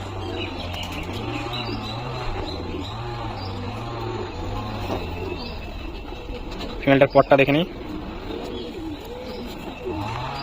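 A male and a female pigeon released together in a loft coo steadily, and a short, loud burst of flapping wings breaks in partway through while someone talks over them.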